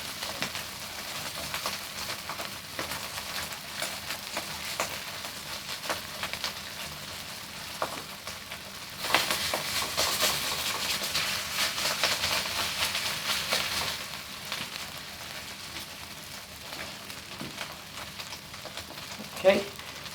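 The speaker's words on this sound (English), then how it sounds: "You hear that real nice sizzle?" Pork fried rice with scrambled egg sizzles steadily in a hot pan, a continuous crackling hiss that rises briefly in intensity midway, with faint clinks and no speech over it.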